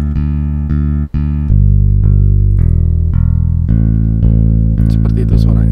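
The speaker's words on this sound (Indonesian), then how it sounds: "kita demo langsung di MIDI-nya biar ketahuan real atau tidaknya" A MIDI instrument plays back a demo as a run of about ten sustained synthetic notes, one after another. They are loud and close, with each note ringing into the next.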